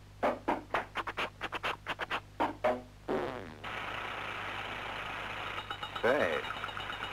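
Detonation knock from a car engine, rendered in a 1945 animated short about spark plugs: a string of sharp, rapid rattling pings in quick bursts, then a steady running engine hum with a brief rise late on.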